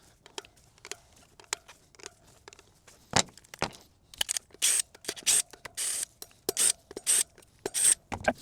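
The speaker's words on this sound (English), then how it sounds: "We'll remove our brake rotor. Same Torx T30 as the new wheel has." Torx T30 bolts are loosened and removed from a Surron LBX electric dirt bike brake rotor, giving scattered close scraping, clicking and ratcheting bursts that grow busier toward the end, with no talking.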